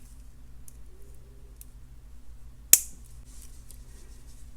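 Cutters snip the excess beading wire on a gemstone and glass bead bracelet, a single sharp close click in an otherwise quiet room.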